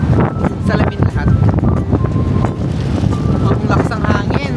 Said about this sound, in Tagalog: Ang lakas ng hangin, may tiyangin.